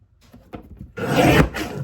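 A paper trimmer slices through two cardstock sheets for a card kit: light taps and shuffles, then a loud close rasping cut lasting about half a second, with no voices.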